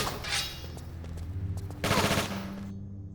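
Pistol fire from the Tomb Raider IV Remastered video game, a run of rapid gunshot bursts over a steady low game soundscape, with a louder, brighter volley near the end.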